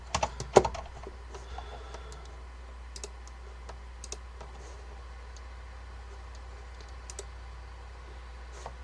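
Typing on a restored Focus FK-2001 mechanical keyboard with Alps switches: scattered, irregular clacks and clicks, close and fairly quiet over a low steady hum, with a few sharper strikes early on.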